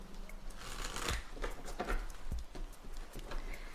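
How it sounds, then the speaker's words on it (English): Tarot cards being shuffled by hand during a reading, a soft riffling patter of card edges with a few firmer taps, close and quiet. "You shuffle cards so pretty."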